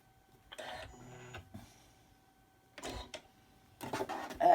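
A sewing machine fitted with a walking foot stitches in short whirring runs, stopping and starting a few times, with quiet gaps between bursts and a faint steady hum underneath.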